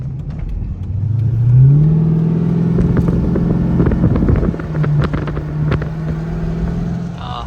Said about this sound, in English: we're gonna just cruise down one of our local back roads going back home here